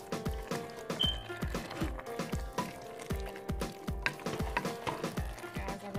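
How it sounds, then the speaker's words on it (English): A spoon gently stirring a pot of crushed tomato sauce with oregano and rosemary, producing a steady rhythm of soft wet squelches and scrapes, close and quiet, with no talk. "All right, gonna give this a gentle stir."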